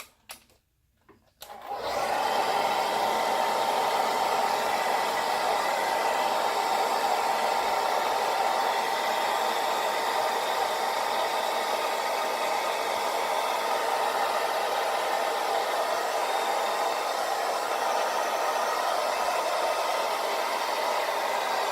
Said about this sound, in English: I'll kind of just pull it out a little bit and blow dry it, see if I can coax that out